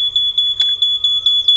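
A phone's GPS tracker app sounds its theft alert for an RX100 motorcycle: rapid, loud, high-pitched beeps repeat about eight times in quick succession, alone and close.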